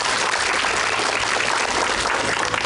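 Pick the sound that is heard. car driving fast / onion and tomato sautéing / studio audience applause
studio audience applause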